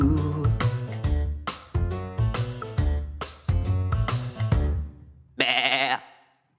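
A sung children's song with a rhythmic backing ends on a single loud sheep-like bleat, apparently a voice imitating a sheep, close and clear right after the music.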